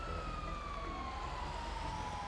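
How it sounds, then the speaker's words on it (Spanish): Emergency vehicle sirens in the video game GTA 5, a steady wailing tone that slowly falls in pitch, continuous over a low rumbling background with no talk. "¿por qué se escucha tanta sirena?"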